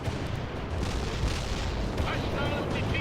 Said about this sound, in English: Artillery strike on our target.